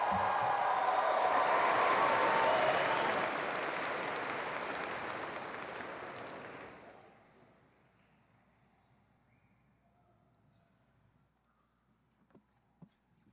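Graduation audience applauding at a high school commencement ceremony for the class of 2019, a dense, loud wash of clapping that tapers off over several seconds into quiet room tone with a couple of faint knocks.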